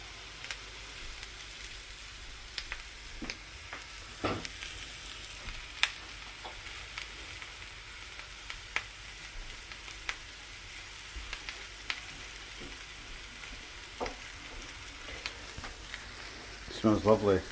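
Mushrooms frying in a hot pan, a soft, steady sizzle with scattered crackles and occasional clacks of stirring, close by and fairly quiet, with a person talking over it at times.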